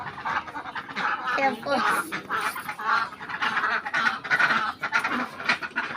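Domestic ducks kept in a rural home yard quack repeatedly in short, irregular bursts, fairly close and loud, with people talking intermittently over the calls.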